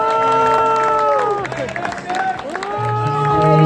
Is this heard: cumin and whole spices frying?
no